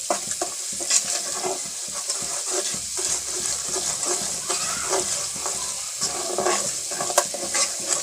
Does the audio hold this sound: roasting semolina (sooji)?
yes